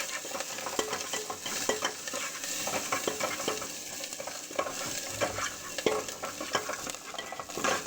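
Onions fry with a continuous sizzle up close, punctuated by frequent scraping and stirring against the pan.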